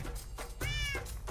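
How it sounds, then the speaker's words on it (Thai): A Minecraft cat meows a few times in quick succession, clear and close, with a long drawn-out cry in the middle. "เฮ้ยมีแมวด้วย"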